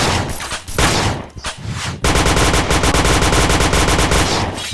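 Gunfire from an APC in a video game: dense, loud automatic fire throughout, ragged bursts at first, then a steady rapid hammering stream of rounds with no pauses.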